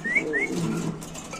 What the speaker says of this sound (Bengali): এই লোক কবুতরটা দেখেন আপনি কিভাবে ডাকতেছে